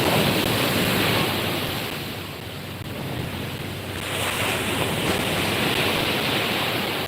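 Ocean waves washing up a sunny beach in Ocean City, Maryland, a loud continuous roar of surf swelling, easing briefly and building again, with wind on the microphone.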